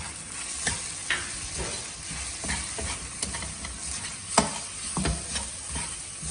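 Chopped vegetables sauté with pav bhaji masala in a pan: a dense, continuous sizzle with frequent spatula scrapes and a few sharper knocks, close up and without speech.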